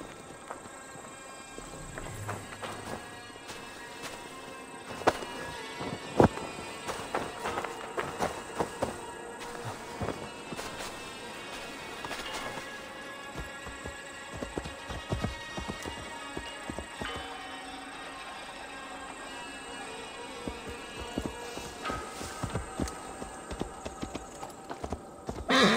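A tired horse plods along in Assassin's Creed Valhalla, its hooves clip-clopping in a steady, unhurried walking rhythm, fairly close and clear, with no talking over it.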